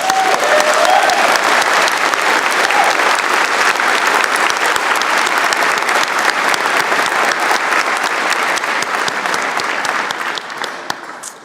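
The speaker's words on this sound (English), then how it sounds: "Please join me now in acknowledging them with a round of applause." A large convocation audience gives a loud, sustained round of applause for the university stage party, dense clapping that holds steady for about ten seconds before thinning out near the end.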